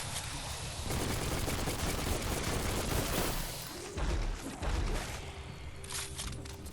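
Rapid, sustained gunfire in the video game Biomutant: dense bursts of shots close and loud, with a short pause before the firing resumes in heavy volleys.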